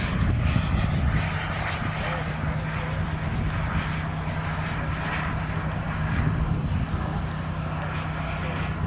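Radio-controlled F9F model jet flying low, a steady loud engine roar that fills the whole stretch, with an announcer talking over it.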